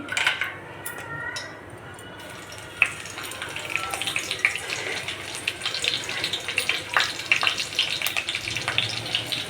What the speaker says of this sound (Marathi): तेल चांगले तापलंय, आता आपण यात मिरची आणि कढीपत्ता घालून घेऊया।